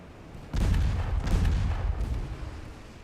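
Warship naval guns fire in the naval strategy game Ultimate Admiral Dreadnoughts, a heavy booming salvo rolling into sustained rumbling cannon fire at close range, with no talking.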